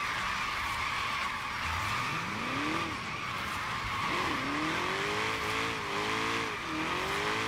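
A drift car engine in a racing video game revs hard to 9,000 rpm, climbing in pitch twice and holding a high whine, with steady tire and road roar underneath; synthetic, game-like engine sound.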